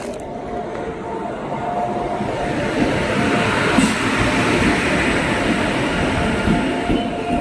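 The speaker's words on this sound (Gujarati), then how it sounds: "ટ્રેન આવી ગઈ" A train pulls into a station on a cold, windy day: a loud, continuous rumble of wheels and carriages with rattling and faint squeal close by, steady throughout.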